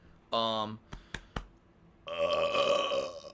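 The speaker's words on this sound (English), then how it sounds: "That was a big burp." A man lets out a big, long, rumbling burp, loud and close, followed by a few clicks and then a second drawn-out belch with a noisy tail.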